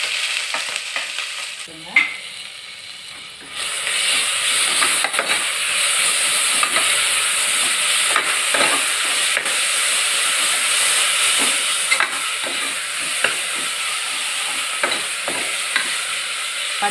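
Onions sautéing and being stirred in a pan for vegetable biryani, a loud steady sizzle and hiss with scattered scraping stir sounds, close and continuous.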